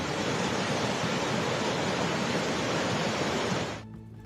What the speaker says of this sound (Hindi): कहीं नदियां और नाले उफान पर हैं।